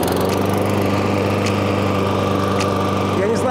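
A Huter GLM-7.0 SL petrol lawn mower engine runs at a steady idle close by, a constant buzzing drone with faint clicks on top and a murmur of voice in the background.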